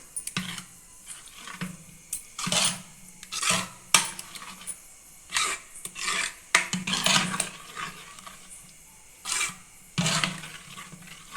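Dal mixed with tamarind juice in a pot is stirred vigorously, producing repeated loud scraping strokes of a ladle against the pot in an irregular rhythm, with brief pauses between strokes.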